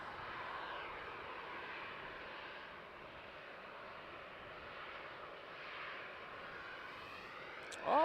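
A KLM Boeing 737 jet departing at night from runway 36L at Amsterdam Schiphol produces a distant, sustained engine roar that swells and fades with a slowly shifting whine, ending in a brief louder bump close by.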